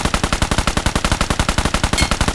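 A weapon in the mobile shooter PUBG Mobile fires a sustained automatic burst. The shots are rapid, evenly spaced and loud, with no pause for over two seconds.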